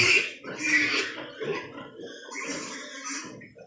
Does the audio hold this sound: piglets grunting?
yes